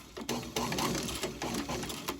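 A sewing machine stitches a boot, giving a quick run of mechanical needle clatter in short bursts and pauses, close and fairly quiet.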